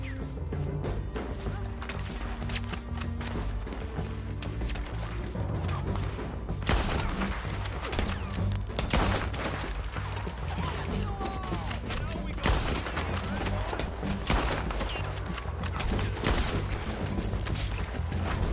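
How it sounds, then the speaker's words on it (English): Gunfight in Red Dead Redemption II with heavy volleys of shots and impacts over a low rumbling bed, dense and continuous, with voices shouting through the fighting. "Keep shooting until they're not."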